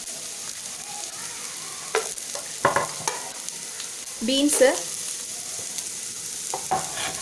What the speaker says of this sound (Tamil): பீஸ் எல்லாத்தையும் நல்லா வதக்கிக்கலாம்.